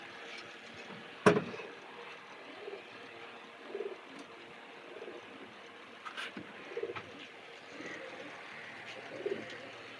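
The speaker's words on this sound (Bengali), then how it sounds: "জোড়া পায়রা।" A pair of Indian Madrasi flying pigeons of a white Jiriya Mundi line coo softly a few times at close range over a quiet room hum, with one sharp knock early on and no speech.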